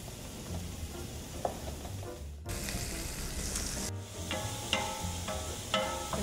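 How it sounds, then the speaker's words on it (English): Sliced garlic and pancetta sizzle in olive oil in a pan, a steady close crackle that shifts with brief stirring and clatter partway through, with no voices. "I'm going to add some sliced garlic"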